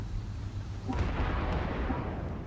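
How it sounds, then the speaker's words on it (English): Enemy fire erupts in the Armored Warfare video game, a low rumbling burst that swells about a second in and keeps rolling, fairly distant and muffled, with no talk over it. "Austin, I'm being shot at."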